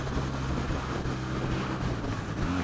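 Wind roars steadily past the open, unfaired BMW R nineT motorcycle at speed, with a low engine drone running continuously underneath.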